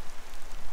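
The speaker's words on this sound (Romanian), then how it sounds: "Vai, ce tare plouă." Heavy, cold rain pours down around a car during a drive near Odorheiu Secuiesc, a dense continuous hiss of drops drumming on surfaces, loud and close with no voices.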